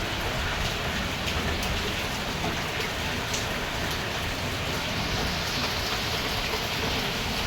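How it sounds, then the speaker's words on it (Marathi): Heavy rain pours down steadily outdoors near a hillside, an even, dense wash of drops with no pauses or other sounds. "हा पाऊस जोरदार येणार"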